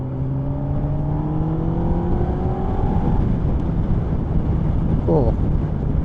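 A Honda Hornet motorcycle engine runs close by as gears change, its smooth whirring drone gliding steadily in pitch before giving way to a rougher, broader roar that holds loud and even to the end.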